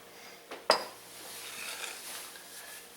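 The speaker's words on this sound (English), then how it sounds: "So you want to leave your fork in here, so right before we dump it in, you can mix it up." A fork clinks against a dish while mixing a separating sesame oil and ginger paste sauce for kung pao shrimp: one sharp close metallic tap stands out, with a softer knock just before, over a quiet kitchen hiss.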